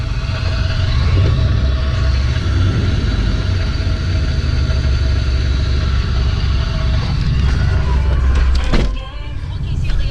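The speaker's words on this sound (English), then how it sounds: "you can hear the supercharger bearings" Supercharger bearings whining on a Pontiac Grand Prix GTP with bad rockers, a steady engine drone with a thin high whine running throughout, close and loud, with a brief clatter near the end.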